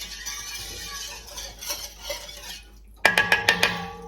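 A spoon stirs milk into chicken pot pie filling in a pot, first as a soft continuous swirl, then as a burst of sharp metallic clinks and scrapes against the pot near the end.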